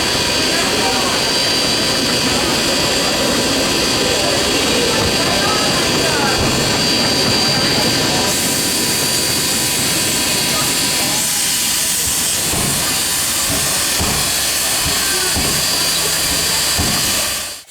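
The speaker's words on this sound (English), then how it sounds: "Finally, the Shay decided to leave the station." A Shay geared steam locomotive pulls out of the station at a steam museum, giving a steady loud hiss and rumble with chuffing that thins out toward the end, against constant background noise.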